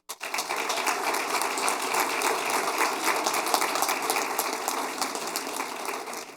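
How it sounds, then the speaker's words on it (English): Audience at a school district event breaks into a big round of applause, dense steady clapping that starts abruptly and holds for several seconds before tapering slightly. "let's give a big round of applause for our February Partner of the Month, Raisi"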